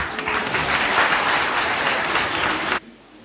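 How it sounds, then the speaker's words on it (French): Applause fills a chapel after a blessing speech, a dense, steady clatter of many hands at close range that cuts off abruptly near the end. "Applaudissez pour moi"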